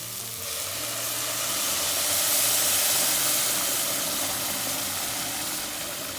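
Boiling water poured into a pot of vegan broth, giving a steady sizzling, hissing rush that swells slightly in the middle and continues unbroken for several seconds.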